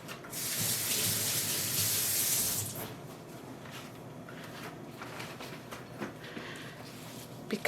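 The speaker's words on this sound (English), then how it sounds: "I'm gonna rinse off my gloves" Water tap running as dyeing gloves are rinsed, a bright rushing splash for a couple of seconds, then the flow cuts off and quieter drips, rubbing and handling sounds follow.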